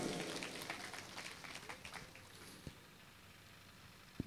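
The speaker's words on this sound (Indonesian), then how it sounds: "kita berikan tepuk tangan di hari yang sangat bahagia ini" Clapping from guests at a groundbreaking ceremony for a PKB party office in Kendal, moderately loud at first, then thinning out and fading into quieter outdoor background with a couple of sharp knocks.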